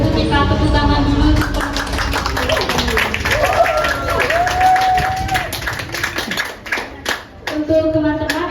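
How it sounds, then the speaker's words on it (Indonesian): An audience at a literature discussion session claps in a ragged burst of hand-claps that fades out in scattered taps, with voices speaking over and after it. "sebelum itu kita tepuk tangan dulu"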